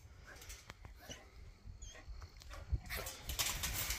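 A black and tan coonhound whimpers and whines in short, thin bursts at a bench show, with scattered shuffling and hoof-like clatter around it, the background growing busier and noisier toward the end.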